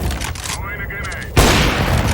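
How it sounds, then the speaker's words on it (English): A grenade goes off in the video game CS:GO with a sharp, loud blast and a noisy crackling tail, following a brief spoken callout. "Throwing a grenade."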